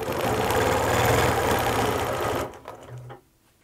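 A sewing machine runs fast and steady while stitching a row of quilting, a dense continuous mechanical whir close by, then slows and stops near the end with a few small clicks.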